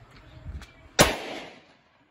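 A single sharp gunshot from a Taurus RT 605 .357 Magnum revolver with a 2-inch barrel, fired into a chronograph, loud and close with a brief ringing decay after faint preceding shuffles.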